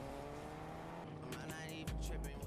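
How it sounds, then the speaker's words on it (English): A car drives in the video game Fortnite, its engine humming steadily and close, then revving up near the end with brief crackling bursts. "I then got into a car and left."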